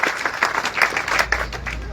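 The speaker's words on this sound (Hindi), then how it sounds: "जोरदार ताली मोदी" Crowd at a political rally applauding loudly, dense steady clapping filling the whole stretch, with a voice briefly audible over it.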